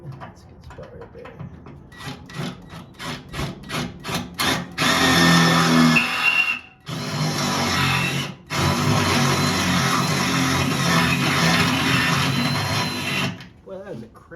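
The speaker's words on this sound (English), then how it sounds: "that was a crap drill bit right there" A power drill whirs in short bursts at first, then runs in long, loud grinding stretches boring through metal with a poor drill bit, close by.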